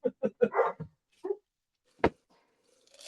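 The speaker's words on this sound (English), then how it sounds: "dogs barking in the background" Dogs bark in the background: a quick cluster of several short, sharp barks, then a lone bark a moment later, with near silence between bursts.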